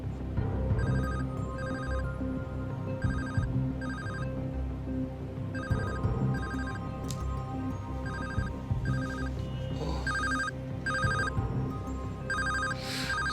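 An old hand-me-down mobile phone rings with a repeating electronic ringtone in short bursts, steady and clearly audible over a low room background, with no talking.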